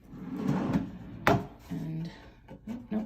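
A single wooden bathroom vanity drawer in a beach resort hotel room slides and bumps shut with a sharp knock near the middle, amid soft room noise and a few brief handling sounds.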